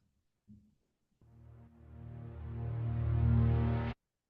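A lead synth's first note, drenched in reversed reverb, swells steadily louder for nearly three seconds and then cuts off abruptly, heard alone after a brief soft note.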